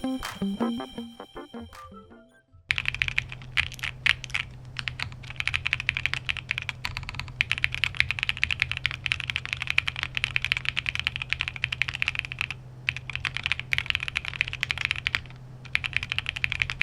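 Close, steady typing on a Mykeyclub MKC75 prototype custom keyboard with a PCB gasket mount using dumbbell silicone gaskets, after a brief tonal intro. A fast, dense run of soft, muted key clacks plays over a low hum, with no voices.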